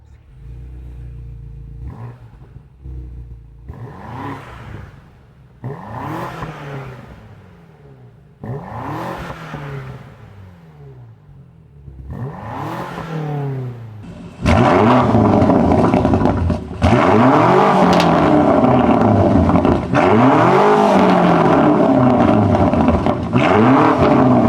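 A BMW G90 M5 with a modified exhaust and brushed titanium tips revs repeatedly, several rising and falling engine sweeps, growing louder and rawer in the second half with crackling bursts.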